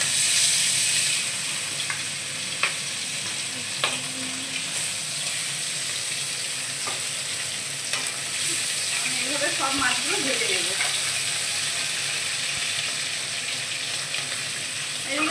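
Small parshe fish frying in hot oil give a steady, dense sizzle and hiss that runs throughout, with faint background voices now and then.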